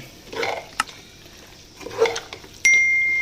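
Pork with spice paste being stirred in a pot for vindaloo, soft scraping and clinks of a spoon against metal, close and brief, ending with a sustained sizzle or hiss.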